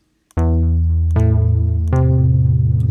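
Arturia iSEM synthesizer, a software synth, holding sustained tones loud and alone, with three note onsets in succession, each ringing steadily without decay.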